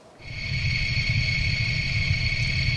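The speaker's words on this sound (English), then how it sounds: "This is the sound of airplane." Airplane engine noise, a steady jet whine with strong high tones over a low rumble, rising in after a brief quiet start and holding loud and constant with no one talking.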